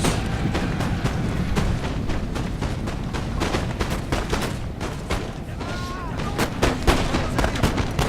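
Musket volleys and artillery fire in a Napoleon Total War multiplayer battle: dense, continuous crackling gunshots and booming cannon blasts layered over one another without pause.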